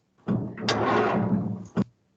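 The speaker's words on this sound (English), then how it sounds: "That sounds like a metal drawer." A metal drawer slides shut with a short scraping rush that ends in a sharp impact thump, followed by a quick second knock. The sound is clean and isolated, like a sound effect.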